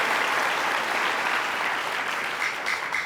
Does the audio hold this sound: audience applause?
yes